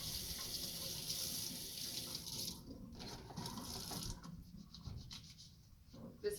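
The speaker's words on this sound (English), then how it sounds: "you are going to first do a basic hand wash." A tap runs while hands are washed for a basic lab hand wash, giving a continuous faint splash and rush of water with soft shifting patters as the hands move under the stream.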